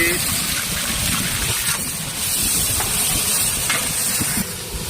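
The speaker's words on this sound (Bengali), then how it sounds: "তেল গরম হয়ে গেছে পেঁয়াজ বাটা দিয়ে দিচ্ছি" Onion paste sizzles and hisses in hot oil in a home kitchen, making a steady, loud frying noise that fills the whole stretch without talking over it.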